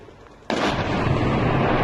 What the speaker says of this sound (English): listen to the sound on that, and also the size of the explosion.